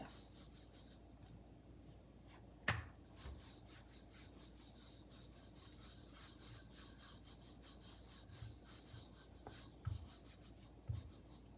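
Cauliflower paratha dough rolled out with a rolling pin: faint, repeated soft rubbing strokes against a board, punctuated by a few light knocks, quiet and close.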